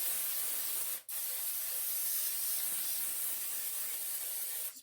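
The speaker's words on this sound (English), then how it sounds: "I'm just going to use an aluminum pan and spray it real good" Cooking spray hisses onto an aluminum pan in one continuous close spray, with a brief break after the first second before the steady hiss resumes.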